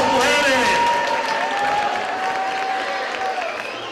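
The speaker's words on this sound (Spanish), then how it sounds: "Un aplauso para estas mujeres." Audience applause for a group of women at a carnival and awards event in a pensioners' social centre, steady clapping filling the room with voices and a singing tone running over it, fading slightly toward the end.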